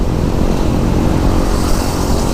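Motorcycle riding at around 60 km/h on a dark road, with a steady close engine drone and road and wind rumble that stays constant throughout, no voices.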